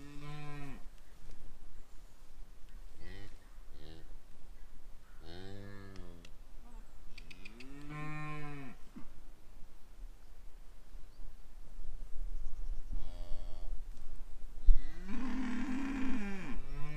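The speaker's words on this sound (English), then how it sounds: "Right, let's go find a cow." Cattle moo repeatedly on a farm at calving season, several long drawn-out calls from near and farther animals over a steady low rumble, with no talk.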